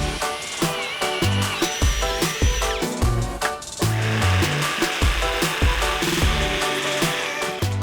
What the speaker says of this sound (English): We're going to cut those out with the jigsaw